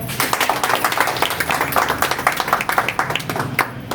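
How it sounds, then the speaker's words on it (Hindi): Enthusiastic applause from a crowd at a meeting, dense overlapping claps sustained throughout, fairly loud and close. "सर के लिए जोरदार तालियां।"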